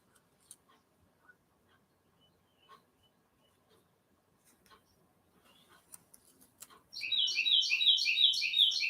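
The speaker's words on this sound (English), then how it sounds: "Listen to that bird singing his fanny off." A songbird bursts into loud, rapid repeated chirping phrases near the end, following a quiet stretch of faint ticks and small household sounds.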